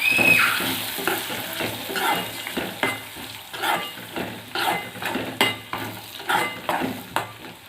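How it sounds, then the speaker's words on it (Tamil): Two eggs poured over dried fish in a frying pan are stirred with a spatula, producing a constant sizzle punctuated by rhythmic scraping and clinking strokes against the pan, close and loud. "2 முட்டையை வச்சு ஊற்றிக்கலாம். நல்லா கிளறி விட்டுக்கலாம்."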